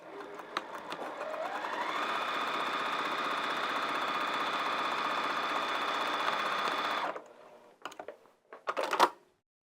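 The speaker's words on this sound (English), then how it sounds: "Okay, let's take it to the machine. I'm going to sew that top edge first." A sewing machine runs along the top edge of a dog kerchief, a steady close whine that speeds up then holds for several seconds before stopping, followed by a few soft handling clicks.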